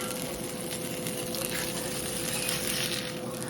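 Vegan birria tacos filled with quesadilla cheese, plant-based meat and birria sauce fry in a pan, giving a steady, dense sizzle that holds unbroken throughout, close and fairly loud, with no voices.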